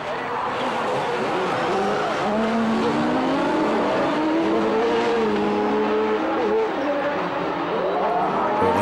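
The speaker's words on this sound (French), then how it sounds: "À l'extinction des feux, une nouvelle fois, Laurent Jacquinet réussit le meilleur en vol" Rallycross race cars, including a Peugeot 207, scream off the start line in a loud, dense roar of revving engines with rising and falling gear pitches and tyre noise. A French commentator talks over it throughout.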